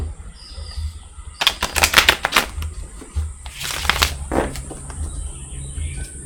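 Quick papery riffles of tarot cards being shuffled, two short bursts close by with a brief pause between, over a quiet room.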